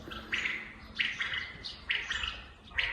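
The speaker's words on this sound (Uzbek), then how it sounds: "bu yerda qushlar, bu yerda bedanalar, bu yerda kanariylar sayrab tursa" Small songbirds such as canaries and quails chirp and tweet in a yard in repeated bright bursts, four or five short phrases spaced about half a second apart, moderately close and alone with no talk.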